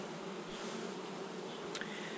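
A colony of honeybees hums in a dense, steady drone while an open hive is being inspected, close and continuous with no talking.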